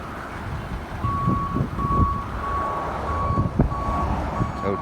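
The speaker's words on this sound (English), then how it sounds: "Tow truck will back up." A tow truck backs up at an accident scene on a road in Mesa, its reversing alarm giving a steady run of evenly spaced beeps over idling engine rumble and nearby traffic noise.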